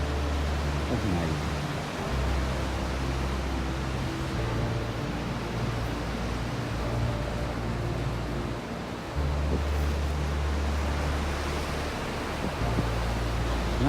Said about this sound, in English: You can actually hear these waves thundering up against the rocks as they're coming in.